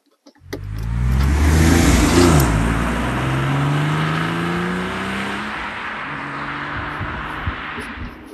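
A Porsche 996 C4S engine starts and pulls away, rising to a loud, steady drone with shifting pitch as the car accelerates, heard up close and alone.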